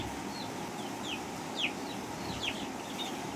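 A crowd of chicks peeps with high, thin chirps in quick scattered bursts over a constant dense hum of many birds, during poultry vaccination.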